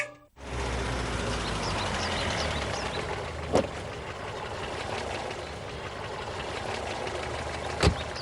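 A vehicle engine idles steadily nearby with a continuous low rumble, broken by a couple of brief sharp clanks.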